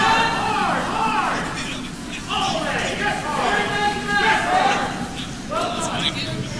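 Crowd chatter fills a curling club warm room, a dense babble of many overlapping voices close by and steady throughout.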